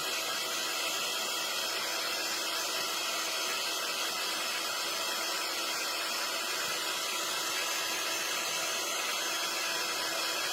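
A hair dryer drying a chalk paste transfer on a craft box frame blows as a continuous, even whoosh for the whole stretch, close and steady, with no talking.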